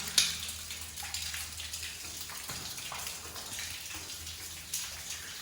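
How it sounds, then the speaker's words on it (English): Water trickles and splashes down from a crack in an old mine ceiling into a stream below, a steady faint hiss with scattered drips, alone in a quiet echoing space. "We've got a lot of water pouring down out of the ceiling"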